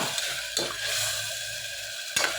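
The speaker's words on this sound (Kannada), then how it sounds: "ಈ ರೀತಿ ಚೆನ್ನಾಗಿ ಫ್ರೈ ಆಗಲಿ" Curry gravy with mint frying in a pan, a continuous close sizzle broken by a few sharp scraping stirs of a spoon against the pan.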